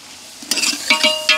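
Mushroom biryani mixture with tomato pieces and salt stirred in a pot at an outdoor hilltop campsite, a few quick scraping strokes against a low sizzle, close and moderately loud.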